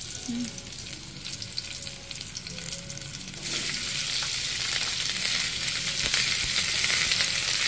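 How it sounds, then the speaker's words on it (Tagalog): Leftover rice frying in a hot pan for fried rice, giving a steady close sizzle with scraping stir strokes that grow louder and denser partway through. "Fried ko itong kalahati nito."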